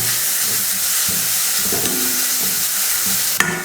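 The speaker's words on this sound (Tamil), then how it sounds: "இப்போ இதே எண்ணெயில் வதக்கிக்கலாம்." Grated carrot sautés in oil in a pan with a continuous bright sizzle and hiss, soft stirring scrapes underneath, and one sharp clink near the end.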